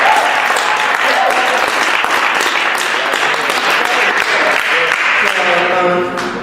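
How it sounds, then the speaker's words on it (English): A town hall crowd breaks into loud, dense applause for a graduating mother, sustained throughout, with voices and a few cheers mixed in near the end. "give her a round of applause because their mother is graduating from Montclair State"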